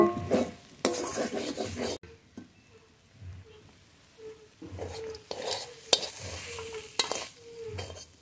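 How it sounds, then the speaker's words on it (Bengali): Kumri leafy greens are tossed in a frying pan in a village kitchen, giving bursts of soft sizzling and scraping separated by quieter gaps filled with faint, rhythmic stirring taps. "নেড়ে নেড়ে শাক খুব ঝরঝরে করে ভেজে নিয়েছি"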